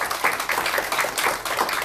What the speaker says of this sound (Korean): 교수님들께 박수 한번 쳐드릴까요?